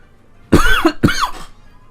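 Two harsh coughs in quick succession from a man, close and loud, alone without speech.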